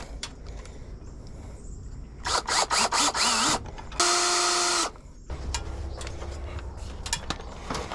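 A power drill whirs in short bursts, then runs in one sustained high whine before stopping, with clattering handling sounds around it, during solar roof construction over a duck coop.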